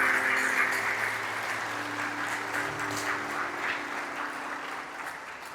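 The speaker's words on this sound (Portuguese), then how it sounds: "Aplauda o Senhor pela vida da Laurinha." A church congregation applauds during a sermon, a steady spread of clapping over a faint sustained hum, fading slightly as it goes.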